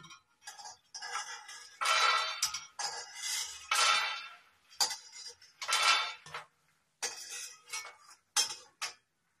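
Roasted makhana being moved into another metal pot, with bursts of scraping and clinking from utensils against the vessel, coming in several repeated scoops with short pauses between them, close and fairly loud.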